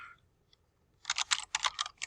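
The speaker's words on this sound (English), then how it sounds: "And we are just typing in all capital letters" Computer keyboard typing of capital letters for a technical drawing, a quick run of crisp clicking keystrokes after a near-silent pause, close and fairly loud with no talk.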